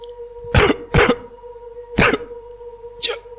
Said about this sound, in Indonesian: Batuk beserta sesak yang amat menyiksa